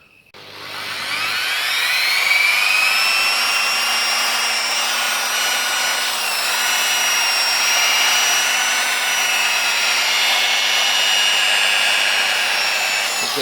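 A handheld machine polisher buffs a painted motorcycle fuel tank with cutting compound, giving a steady whirring whine that holds at an even level throughout.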